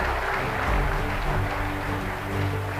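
An audience at an Atomy India event applauds with a dense, steady wash of clapping that carries on throughout at an even, fairly loud level.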